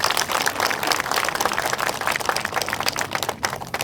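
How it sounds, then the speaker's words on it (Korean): Audience applause at a signing ceremony for a clean-water supply agreement between Daegu and Andong, a dense, steady patter of many hands clapping close by. "박수 부탁드립니다."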